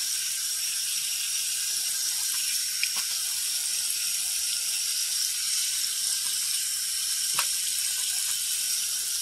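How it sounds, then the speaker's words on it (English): Water runs steadily into a sink while it is scrubbed, a loud continuous hiss with a few faint knocks and clicks underneath. "I'll scrub out the sink."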